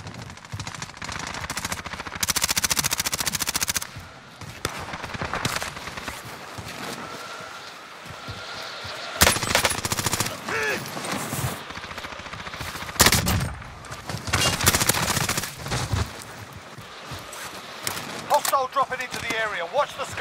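Bursts of gunfire during pre-deployment target practice in Call of Duty: Modern Warfare Resurgence Quads, loud and close, broken by pauses and scattered single shots, with people talking over the shooting.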